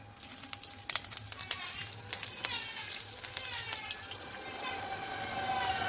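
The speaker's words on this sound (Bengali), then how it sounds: "বেগুনটা ভাজা করে কড়াইতে তেল ছিল, ওই তেলের মধ্যে ফোড়নটা দিয়ে দেবো।" Spices hitting hot oil in a wok for a Bengali eggplant dish, nigella seeds and green chilies in the leftover frying oil, giving a steady close sizzle and crackle with sharp pops throughout.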